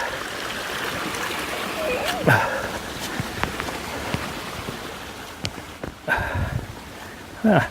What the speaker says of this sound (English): now I got another creek to get across without falling in